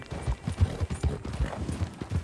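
Horse hooves clip-clop in a steady rhythm in a western-themed video game epilogue, with a brief whinny among the close, loud steps.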